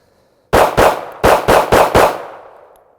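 Ruger LCP II and LCP Custom compact pistols fire six loud, sharp shots in quick succession at close range, in two rapid bursts with a short pause between, each crack ringing out briefly before fading.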